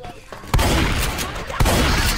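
Close, loud gunfire in Left 4 Dead 2, two sharp shots that each set off a dense, crackling burst, layered over game noise.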